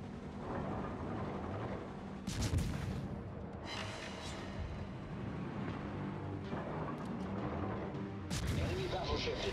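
Naval gunfire from a light cruiser's rear turret, likely a Plymouth, in a naval battle game: three heavy broadband booms at roughly even intervals, the third the loudest. They sit over constant engine and sea rumble, with someone talking throughout.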